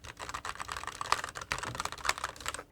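Quick, steady keystrokes on a Lenovo mechanical gaming keyboard with red switches, close and crisp, clattering alone in an uneven rhythm with no talking.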